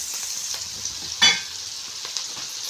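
Potato fry with tomatoes sizzling in a pan, with a soft continuous fry and one sharp scrape of a stir in the middle.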